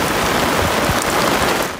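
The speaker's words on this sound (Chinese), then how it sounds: "三号下午暴雨袭击基隆" Heavy afternoon rainstorm in Keelung, a steady dense hiss of downpour filling the whole short stretch at constant loudness with no voices.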